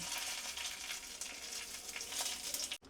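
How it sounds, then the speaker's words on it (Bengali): Dried fenugreek leaves (kasuri methi) are tempered in hot oil for a chicken dish, giving a soft, steady sizzle and crackle with faint popping, fairly quiet throughout. "এইবার আমি চিকেনের মধ্যে তেলের মধ্যে একটু কসুরি মেথি ফোড়ন দিচ্ছি"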